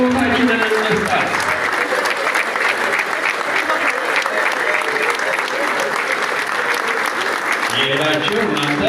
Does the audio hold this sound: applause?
yes